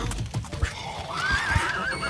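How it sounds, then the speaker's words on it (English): A horse whinnies in the survival game SCUM during an arena fight of animals against puppets, a strained neigh rising over thudding hoof and combat sounds, with no talk. "Get this horse down."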